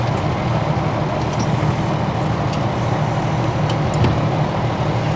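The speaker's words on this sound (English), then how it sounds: "Once I have a minimum of 100, I'm going to put my truck in a low gear." A truck idles in low gear during a parking air brake test, a loud steady diesel rumble up close with faint hisses and clicks over it.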